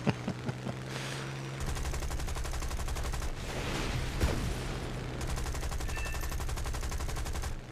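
Aircraft machine guns firing in the War Thunder video game, rapid sustained bursts that rattle on for several seconds after a few single shots, loud and close with no talk.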